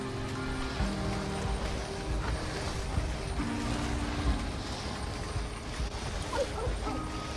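Sled dogs in The Red Lantern video game barking, yipping and whimpering over a steady background bed, moderately close, with some calls rising toward the end.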